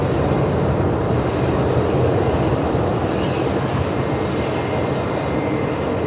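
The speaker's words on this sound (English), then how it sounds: "Now we got a Qatari 777 on the move." A Qatar Airways Boeing 777 departing Melbourne Airport, a broad steady jet engine roar at a distance, continuous and even, with no talk.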